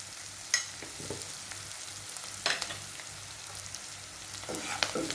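Butter beans stir-fried with spices and salt in a pan give a soft, steady sizzle with a few scraping stirs of a spoon, moderately quiet and with no talking.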